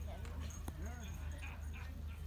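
Dogs at an outdoor overlander show campsite give short whimpers and yips, fairly quiet and partly under people talking nearby.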